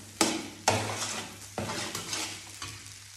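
A spoon stirs seafood paella frying in a pan with a steady sizzle. Several sharp scraping strokes land at irregular intervals, close and fairly loud, with no voices.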